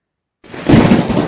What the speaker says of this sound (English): apparently it's supposed to be a thunderstorm coming on my train set as well